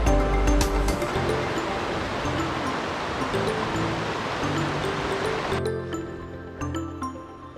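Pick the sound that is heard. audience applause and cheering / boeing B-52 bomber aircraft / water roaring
water roaring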